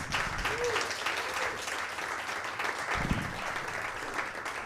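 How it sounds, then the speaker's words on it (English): Comedy club audience applauding steadily for the next comedian, a dense sustained patter of clapping at moderate distance with a brief voice near the start. "Let's give a round of applause for your next comedian"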